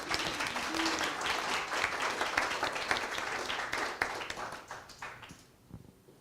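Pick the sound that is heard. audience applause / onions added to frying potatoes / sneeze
audience applause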